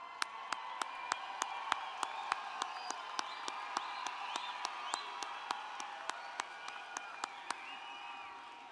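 Dense applause and cheering from a large commencement crowd at a spring university graduation ceremony, a steady roar of clapping with sharp individual claps standing out, sustained throughout.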